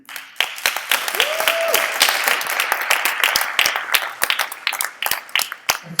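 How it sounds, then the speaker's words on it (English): Audience applause in a theater before a live radio play performance, a scattered mix of individual sharp claps building into steadier clapping, with a brief tonal sound near the start and some crowd noise underneath. "we want a round of applause to go to all of you"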